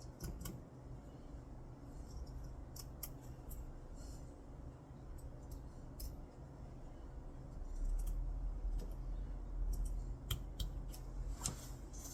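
Scissors handled during an embroidery project give faint, scattered metallic clicks and snips over a steady low hiss, quiet and close.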